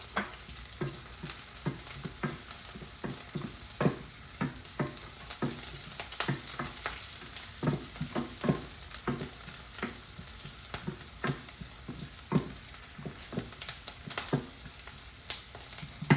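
Curry leaves, about eight to ten, dropped into hot oil for Gujarati aloo poha, giving a soft continuous sizzle dotted with frequent sharp crackles and pops throughout, no voices.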